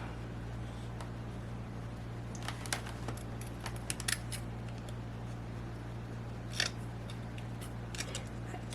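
Scissors cut along the edge of a sheet of paper during a paper craft build of a berry box, giving a few quiet, crisp snips over a steady low hum.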